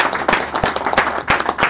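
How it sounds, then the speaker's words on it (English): A small group claps for a student at a live-streamed gathering, irregular hand claps with a few sharper close slaps, steady for under two seconds with no talking. "Let's give him a round of applause."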